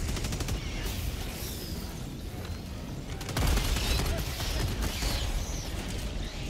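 Gunfire in a video game rattles at the player in dense, rapid bursts like machine-gun fusillades, loud and sustained, with a heavier barrage in the second half.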